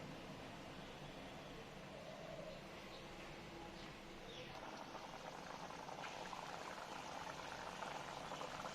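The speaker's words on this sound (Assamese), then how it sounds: "এতিয়া এইখিনি উতলিবৰ কাৰণে দিম।" A pot of taro and elephant apple curry simmers with a soft, continuous bubbling, faint and even from start to finish.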